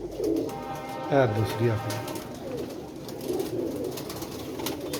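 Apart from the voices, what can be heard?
pigeon cooing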